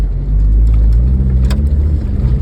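A car engine revs loudly and steadily under hard acceleration, a close, deep droning roar that holds at full throttle.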